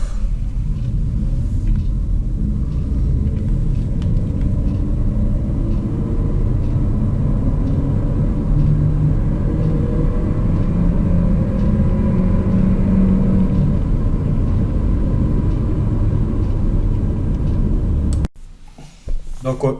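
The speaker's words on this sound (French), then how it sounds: "On va se voir une petite accélération" Renault Arkana Esprit Alpine SUV with automatic gearbox accelerating, a steady low engine and road rumble heard from inside the cabin, rising slightly in pitch before cutting off abruptly near the end.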